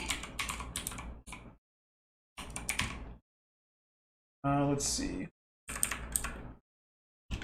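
Bursts of keyboard typing come in short clusters with pauses between them, and a person speaks briefly partway through.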